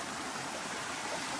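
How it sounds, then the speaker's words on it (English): Steady rushing water from a small waterfall in Prairie Hollow Gorge, Missouri, a continuous broadband wash at moderate distance with no voices. "I arrived at this nice waterfall right here"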